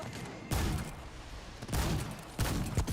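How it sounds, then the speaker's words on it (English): Fiery explosions in the online game DDO (Dungeons & Dragons Online), played on a hardcore server: three loud, broad booming bursts roughly a second apart, each with a rumbling tail, no talk. "Oh, the fiery explosion."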